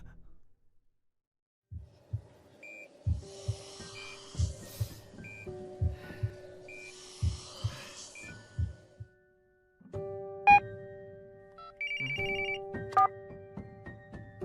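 A phone ringtone sounds for an incoming call, a repeating melodic electronic pattern with short chimed bursts, fairly quiet and near, going on for several seconds with no speech.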